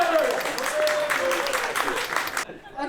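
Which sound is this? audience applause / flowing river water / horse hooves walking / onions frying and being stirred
audience applause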